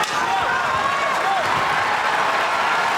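A large arena crowd at a UFC fight night in Boston roars steadily with applause and cheering, a dense continuous wall of noise from all around.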